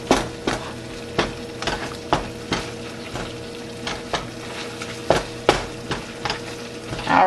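Ground meat for Philly cheesesteaks sizzles steadily in a hot pan, with sharp utensil scrapes and taps against the pan at irregular intervals, close and fairly loud with no talking.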